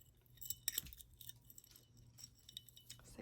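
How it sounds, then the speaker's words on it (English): A small metal chain attached to copper scissors clinks and jangles in a few light, close taps and rattles against a quiet room. "So they come with a chain"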